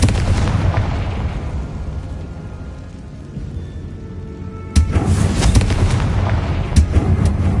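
A Confringo blasting spell goes off in the video game Hogwarts Legacy, a heavy, booming explosion with a rumbling tail, followed by a second sharp blast and crackling bursts, loud and without speech.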